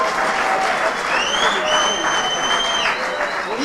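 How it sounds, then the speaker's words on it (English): A crowd claps steadily at a World Philosophy Day gathering in Lusaka, Zambia, the applause dense and even throughout with a few faint whistles on top. "Please, let's give them a big round of applause."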